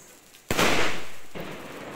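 A Diwali sky shot firework pops once sharply about halfway through, then a loud crackling hiss trails off, close by outdoors, with low voices in the background.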